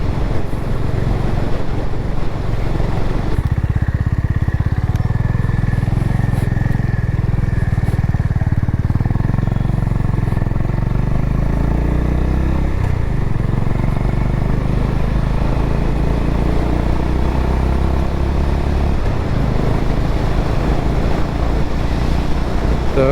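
A Honda H'ness CB350 motorcycle ridden on the road: a loud, steady engine drone under heavy wind buffeting, with the pitch climbing and shifting as it accelerates through the gears.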